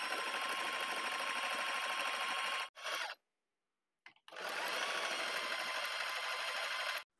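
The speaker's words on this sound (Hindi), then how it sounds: "इस साइड भी हम ऐसे ही सिलाई लगाएंगे, और जो एक्स्ट्रा फैब्रिक है वो पीछे की साइड आ जाएगा।" A sewing machine stitches a fabric cover for a storage box (petti/sandook) in a fast, even whir. It runs for about three seconds, stops briefly, then starts again for another long run.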